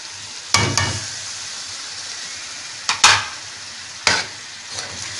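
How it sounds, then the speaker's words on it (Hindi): Yogurt goes into sizzling mutton achari karahi in a pan, giving a constant frying hiss broken by three or four sharp scraping stirs against the metal. "साथ हम इसके साथ दही डाल देंगे।"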